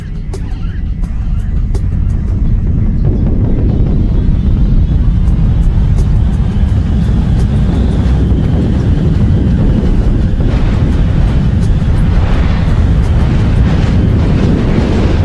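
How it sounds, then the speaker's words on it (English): Asteroid impact shockwave and blast front: a loud, sustained roaring rumble with heavy low-end energy, building into a continuous turbulent blast that holds steady to the end. "The shockwave arrives. Next comes the blast front."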